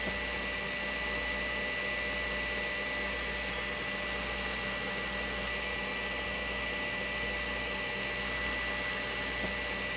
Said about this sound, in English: Stop the mixer.